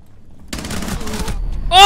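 Gunfire in the video game Rainbow Six: Siege, a burst of rapid shots at close range with a sharp louder blast at the very end.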